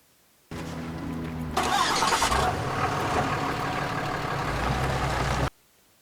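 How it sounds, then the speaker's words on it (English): A loud truck engine cranks briefly, catches with a roar and settles into a steady, heavy idle, then cuts off abruptly. "Could that truck be any louder?"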